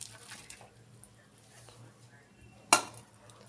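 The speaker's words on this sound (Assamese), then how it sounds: "এতিয়া ফুলখিনি মই পানীৰ পৰা টুকি ল'ম।" Boiled banana flowers are scooped out of their cooking water in a pot, with quiet scraping and stirring and one sharp metallic clank of a utensil against the pot.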